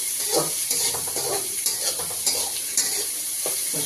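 Onion paste, tomatoes and spices are stirred and fried in a pan, loud close sizzling with rhythmic scraping strokes of a spoon repeating every half second or so.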